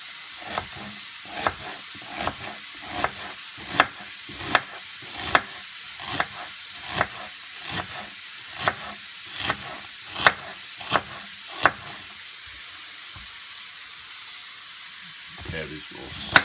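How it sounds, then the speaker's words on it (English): Bacon fries in a cast iron pan with a soft, steady sizzle, broken by a regular series of sharp scraping stir strokes about one per second that stop near the end before a couple more clatters. "Bacon starting to cook"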